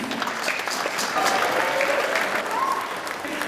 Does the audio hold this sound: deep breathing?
no